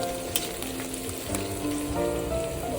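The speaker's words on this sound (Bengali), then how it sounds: "ভালো করে পেঁয়াজ মরিচগুলোকে ভেজে নিতে হবে।" Onions and chilies sizzle steadily in hot oil in a pan, a dense, continuous crackling fry with faint stirring clatter, close and moderately loud, with no talking.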